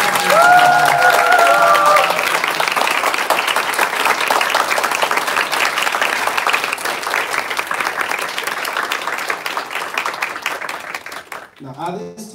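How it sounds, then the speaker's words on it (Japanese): Wedding guests give a big round of applause, dense sustained clapping with some cheering and voices mixed in, continuing for most of the stretch before cutting off abruptly near the end. "One more big round of applause"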